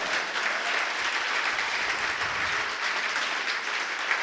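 A church congregation applauds in praise during a sermon, a continuous wash of many hands clapping at moderate level, steady from start to finish.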